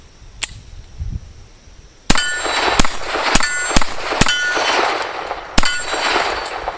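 Gunshots ringing off steel targets outdoors, several sharp loud cracks each followed by a bright metallic clang, irregularly spaced with one louder shot near the end, no talking.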